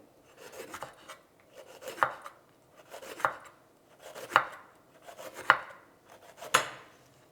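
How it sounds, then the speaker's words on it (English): A knife slices half a green capsicum on a cutting board for a Greek salad, with six or so crisp, evenly spaced chops close by and no talking. "Green capsicum. Slice करके डालेंगे."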